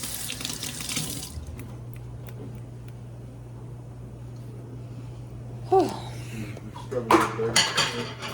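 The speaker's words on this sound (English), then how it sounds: "I'm gonna wash the dishes." Dishes are washed at a kitchen sink: a tap runs steadily against a low background hum, and then crockery and cutlery clink and clatter in short bursts toward the end.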